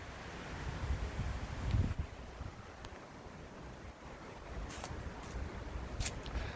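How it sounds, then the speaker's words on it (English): Strong wind blowing outdoors in California, a steady low roar with gusty surges and buffeting rumble, fairly faint and with no voices. "Here's what the wind looked like here at headquarters last Sunday."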